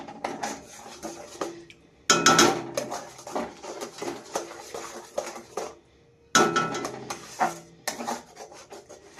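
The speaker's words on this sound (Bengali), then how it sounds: "তো এখন একটু নাড়া হবে।" A spoon scrapes and clatters in a pan as fish curry is stirred with turmeric and salt, in two close bursts of rhythmic rubbing with brief pauses between them and no talk.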